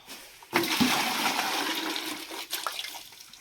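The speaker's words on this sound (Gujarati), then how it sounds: "હવે આપણે પાણી ડોલમાં નાખી દઈએ છીએ।" Water gushes and splashes into a bucket in a steady rushing pour, starting suddenly after a brief quiet moment.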